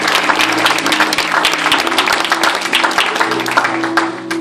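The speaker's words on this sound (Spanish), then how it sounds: "Pues denle un aplauso al Señor" A church congregation applauds for the Lord, dense steady clapping filling the room for several seconds, with a sustained musical tone underneath.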